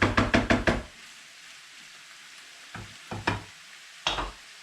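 Bavette beef stirred in a frying pan: a quick run of five sharp knocks of the utensil against the pan, a pause with faint sizzling, then scattered scrapes and clacks in small clusters.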